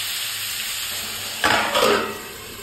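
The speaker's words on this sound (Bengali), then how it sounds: "তো ভাজা ভাজা করছি" Vegetables fry quietly in a pan over a very low flame, a soft, steady sizzle broken by two short, louder stirring scrapes in close succession, heard up close with no talking.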